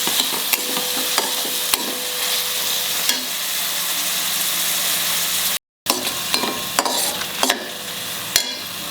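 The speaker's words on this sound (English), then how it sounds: "2 chopped onions. Fry them till they are translucent." Chopped onions fry in a pan with ginger, a steady close sizzle broken by occasional clinks and scrapes of stirring, with one very brief dropout in the middle.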